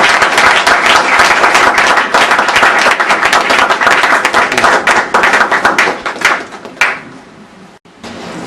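A church congregation bursts into loud, sustained applause as the pastor approaches the pulpit, dense clapping filling the space for about seven seconds before thinning out and stopping.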